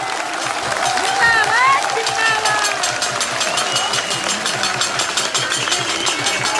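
A rally crowd claps loudly and steadily at a protest gathering for the Upnal strike, a dense, continuous wash of applause with voices and shouts mixed in throughout.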